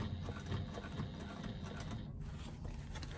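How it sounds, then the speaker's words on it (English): A sewing machine topstitches a bag in a fast, steady mechanical whir of rapid needle strokes, close and continuous, with a brief shift in tone midway. "I'm top stitching using the measurement given in the pattern"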